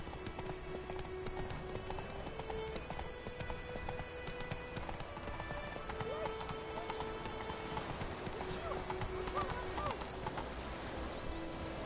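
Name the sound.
horse hooves galloping in video game The Witcher 3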